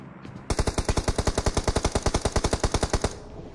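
Rapid automatic gunfire in the battle royale game BGMI, a steady burst of about twenty loud evenly spaced shots lasting over two seconds, alone without talk.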